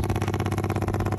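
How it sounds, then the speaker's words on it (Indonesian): A motorcycle fitted with a loud aftermarket open exhaust rumbles steadily, its rapid, even firing pulses sounding close and loud throughout the short burst. "pakai knalpot brong"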